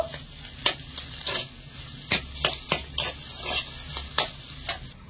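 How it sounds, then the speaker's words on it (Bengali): A spiced potato filling with green chilli and curry leaves is stirred and fried in a pan. Sharp spatula scrapes recur every half second or so over a steady, close sizzle, and no one speaks. "এবারে সবকিছু আমি ভালো করে আবারও মিশিয়ে একটু ভাজা ভাজা করে নেব।"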